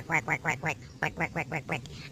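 A toy duck quacks in two quick bursts of about five nasal quacks each, close and fairly loud, with a short pause between the runs and no talking over it.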